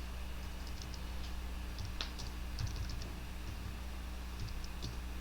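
Computer keyboard keys tapped in light, scattered clicks over a steady fan hum, quiet and close, with no talking.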